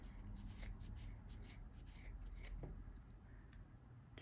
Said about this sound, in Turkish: Önce fazlalık iplerimi kesiyorum.